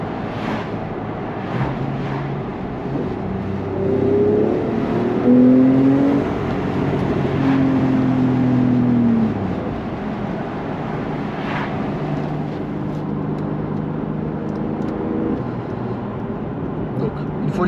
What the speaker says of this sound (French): on profite tout de même de la belle sonorité que propose cette Porsche